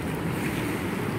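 Floodwater from the Progo River surges against concrete tetrapods in a broad, rushing roar, loud and continuous, with wind buffeting the microphone and no voices.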